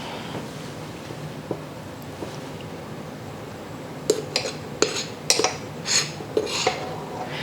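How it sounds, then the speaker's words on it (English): A utensil clinks against a bowl while flour and sea salt are mixed for a chocolatey dessert, with a handful of light, irregular taps in the second half over a steady faint hiss. "In this bowl, we're going to mix the flour and the salt."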